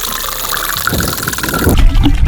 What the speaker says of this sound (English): I'm just gonna add my white vinegar to the bucket.